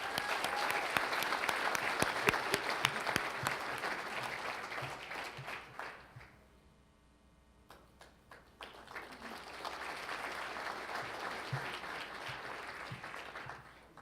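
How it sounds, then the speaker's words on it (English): Audience applause at the CES 2018 Young Innovators competition, a loud sustained crowd clapping that dips briefly in the middle before swelling again and continuing to the end. "So let's give Krishna a huge round of applause"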